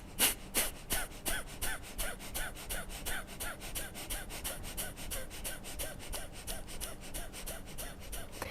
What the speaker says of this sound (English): So the fire breathing, it's just exhale, exhale, exhale, and it forces the energy up.